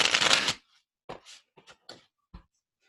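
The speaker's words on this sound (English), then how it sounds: "I'm just going to keep shuffling a bit more." A deck of oracle cards is riffled in one crisp, close burst, followed by several softer, separate taps and slides of cards being handled in an otherwise quiet room.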